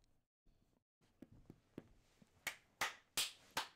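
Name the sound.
hand clapping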